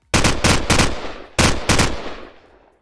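Loud, close gunshots in Call of Duty 4: Modern Warfare, five sharp cracks, three in quick succession, a short pause, then two more, each with a brief decaying echo.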